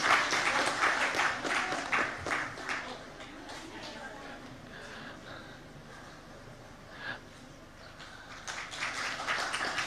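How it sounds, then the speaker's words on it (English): Audience at the opening ceremony of an Everest climate-change dialogue applauds the keynote speaker: loud clapping at the start that thins and fades, then swells again near the end, with voices talking over it. "Please, a round of applause for our keynote speaker,"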